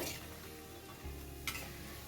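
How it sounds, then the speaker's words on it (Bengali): Corn pakoras frying in hot oil, giving a steady, soft crackling sizzle with one brief stir or clink midway, heard close and alone. "ভাজার সময় তেলের মধ্যেই এর আওয়াজ শুনে বুঝতে পারছেন আশা করি যে এগুলো কতটা মুচমুচে হবে"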